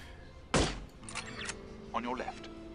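A door opens on a balcony in the video game No One Lives Forever, one sharp loud thunk followed by brief mechanical rattling, with speech-like game voices after it.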